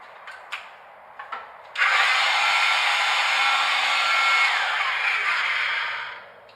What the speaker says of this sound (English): a tyre inflator pump if you have a puncture. Now these are heavy on juice. This is a 10 amp pump